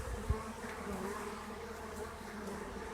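A swarm of honey bees with many virgin queens making a steady, dense, close buzzing hum with a faint bump near the start and no talking.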